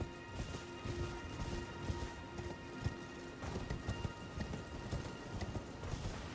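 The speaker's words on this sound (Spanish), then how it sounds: "Le dais hostigar al caballo y ya está" A horse gallops steadily in the video game Elden Ring, its hoofbeats a fast, continuous rhythmic clatter under a busy game soundtrack, with no talk.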